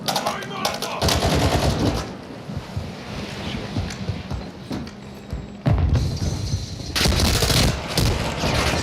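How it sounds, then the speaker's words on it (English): Bursts of video game gunfire from an online shooter: heavy, loud, crackling volleys that start and stop, with a noisy rushing bed between the bursts. "Taking fire!"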